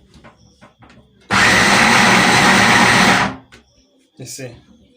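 An electric pounder churning yam or cocoyam runs in a single loud, steady motorized whir for about two seconds, with brief speech before and after.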